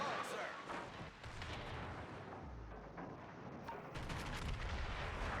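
Battleship secondary guns in World of Warships fire in a steady barrage of booming, rumbling shots layered over continuous loud naval battle noise.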